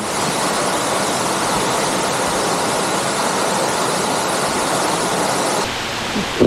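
Pacugao Falls in Aurora Province roars as a loud, steady wash of falling water close by, with no voices.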